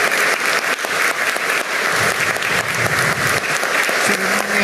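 Steady, full applause from an audience honouring a retired Peruvian National Police general at a medal ceremony in the Palacio de Gobierno's Gran Comedor. The clapping is close and continuous, with faint murmurs underneath.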